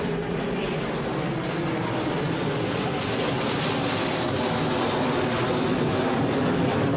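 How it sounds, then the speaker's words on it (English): A fixed-wing airplane passes overhead during an outdoor parade and cultural performance, its engine a loud, steady roar that fills the whole stretch with no voices. "I am going to wait for the airplane to go over."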